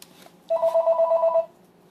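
A telephone answering machine rings once, a single near, loud electronic trill of about one second with a fast pulsing warble, alone in a quiet room.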